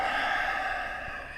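A long, steady breath pushed out during a yoga exercise, a close, airy sigh-like exhale lasting over a second with no talking.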